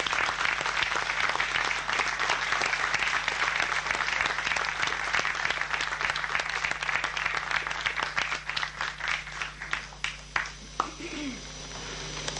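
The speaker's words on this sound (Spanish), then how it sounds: "Con el aplauso de todos ustedes, recibimos a Alba Toranzo." Audience applause welcoming singer Alba Toranzo at a tango tribute concert, a steady, full round of clapping that breaks into scattered individual claps and dies away near the end.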